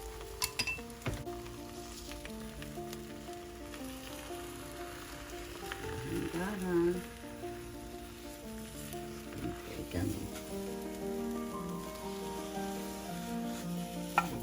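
An egg omelette sizzles steadily in a pan on a stove, with occasional utensil clinks and scraping stirs close by, while a faint voice talks intermittently in the background.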